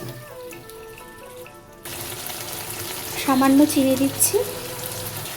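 Water goes into a pan of sautéed flat beans and potatoes cooking in spiced oil, a steady hissing pour that starts midway and continues to the end, with a voice speaking over it.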